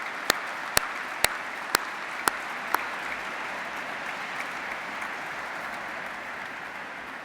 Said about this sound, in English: I wonder at this point if I could ask the graduates to give a big round of applause for all their friends and family